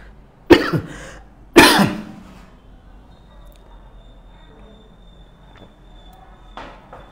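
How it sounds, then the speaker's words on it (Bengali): Two sharp, loud coughs from one person come in quick succession early on, then only quiet room tone with a faint throat noise near the end. "তো আমার প্রচুর কাশি পাচ্ছে"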